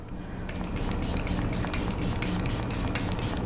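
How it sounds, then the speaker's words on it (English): A Rhode glazing facial mist sprayer hisses in a rapid series of short, close bursts, each a soft airy spritz, with no talking. "This is the glazing mist."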